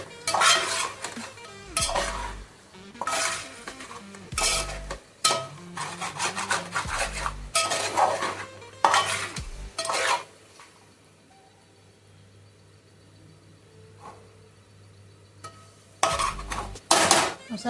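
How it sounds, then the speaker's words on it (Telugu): Chicken pieces tossed with homemade spice powder in a metal pan, rhythmic scraping and stirring strokes in bursts with short pauses, close and fairly loud. "ఆ పౌడర్ అంతా చికెన్ పీసెస్ పెట్టేటట్టు వీడియోలో చూపిస్తున్నట్టు కలుపుకోవాలి"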